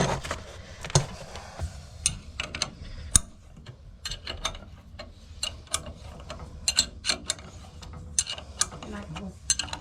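A wrench ratcheting while tightening an inline oil filter on a Beckett oil burner for a boiler or furnace, with rapid irregular clicking bursts close by, repeated throughout.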